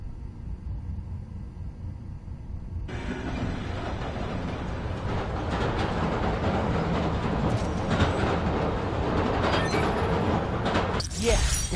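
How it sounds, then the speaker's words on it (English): Subway train rumbling past in the Marvel's Spider-Man: Miles Morales video game, a steady loud roar that swells near the three-second mark and holds, with rail clatter and a brief screech near the end. "There's a subway line near here."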